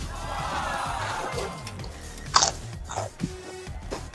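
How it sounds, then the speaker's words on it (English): Someone bites into a crunchy sandwich and chews, a sharp crunch followed by softer chewing close up, set against low background chatter. "I want to keep eating the sandwich, though."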